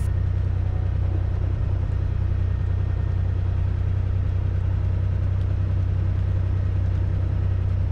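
The engine of a light aircraft runs before takeoff with a loud, steady, droning rumble that holds constant without any break.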